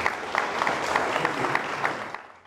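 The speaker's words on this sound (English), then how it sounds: "Maybe let's clap for our." A lecture audience gives a short round of applause, steady mid-level clapping from many hands that tapers off at the close.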